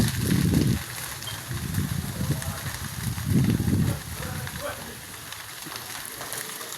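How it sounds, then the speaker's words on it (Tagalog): A fire set off by welding work burns in strong wind, giving a loud, roaring, crackling rush with gusting surges that rise and fall, while a voice talks over it. "lakas ng apoy kasi lakas din ang hangin."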